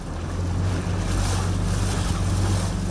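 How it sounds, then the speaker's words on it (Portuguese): A strong floodwater current churns into waves around a boat, giving a loud, continuous rushing roar with heavy low rumble and wind buffeting the microphone. "E olha a força da água."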